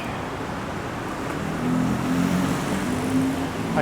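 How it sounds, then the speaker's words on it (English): Bangkok road traffic rumbles past in a steady, fairly loud wash of engine drone and tire noise, with a vehicle swelling nearer midway and no talking. "some of that sweet Bangkok traffic."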